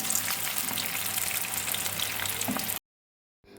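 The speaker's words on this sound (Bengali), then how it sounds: "এই যে ফুলকপিগুলোকে ভালো করে ডিপ ফ্রাই করে নিয়েছি।" Cauliflower florets deep frying in plenty of hot oil, a dense steady sizzle and crackle running loud and close for nearly three seconds before cutting to brief silence, then returning faintly.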